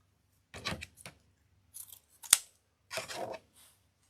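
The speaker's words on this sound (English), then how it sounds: "We're going to dovetail the ends while those are drying." Scissors snipping ribbon ends into a dovetail for a lighted evergreen wreath, a few quiet close cuts and rustles separated by pauses, with one sharp click.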